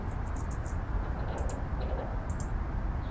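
Computer keyboard keys tapped during a Basement game session, a scattering of light, sharp clicks over a steady low hum, near and moderately quiet, with no talk.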